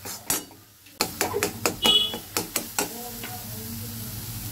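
A spatula stirs and mixes a grated-carrot sweet mixture in a pan, making a quick series of sharp, close knocks and scrapes that then trail off into a soft background hiss.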